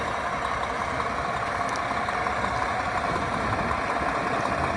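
A 2009 Volvo VNL truck with its big Volvo engine and 10-speed transmission idles nearby, a steady, loud, even rumble with no breaks.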